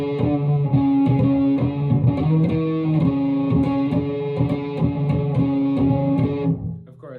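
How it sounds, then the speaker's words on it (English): A distorted microtonal bass guitar plays a solo lick, loud and close, with sustained gritty notes sliding between pitches in a repeating phrase before cutting off near the end. "we pump on some distortion, and then I basically just outlined the main lick"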